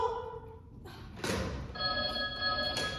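An old telephone bell rings in a radio drama, a loud ringing burst in the second half following a thud and muffled noise, with no speech.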